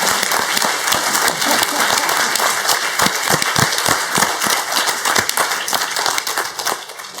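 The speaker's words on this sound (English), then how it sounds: "let's have a big round of applause for Will and the whole" Lecture audience applauding a speaker and team at a talk on resilient, sustainable food systems: dense, steady clapping from a large crowd throughout, close and loud, with a few sharper individual claps standing out.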